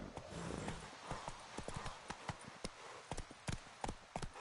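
Roach the horse trotting and slowing in The Witcher 3, distinct hoof clops coming in an uneven, slackening rhythm, close and fairly quiet over soft background ambience.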